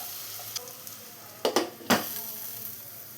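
Onion and tomato frying for a Kerala-style kadala curry in a pan with the lid on, giving a steady soft sizzle with a few louder clinks and stirring bursts around the middle.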